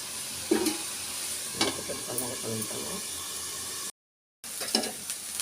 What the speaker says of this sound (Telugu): కర్రీలో చూసారా ఆయిల్ వచ్చేస్తుంది బాగా వేయింది